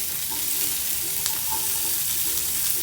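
Sweet corn hits a hot tawa oiled for handvo and sizzles steadily, a close, continuous frying hiss with faint stirring scrapes.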